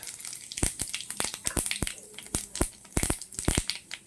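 Whole spices such as bay leaf, cinnamon, cloves, cardamom and cumin seeds crackle and pop in hot oil in a pan, with rapid sharp spits and sizzles scattered over a low frying hiss, close by.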